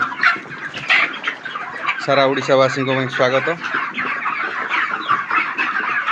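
Broiler chickens, 42 days old, cluck and crow loudly in a crowded poultry shed during a power cut, a dense constant flock murmur with one rooster-like call rising above it; someone talks over the birds.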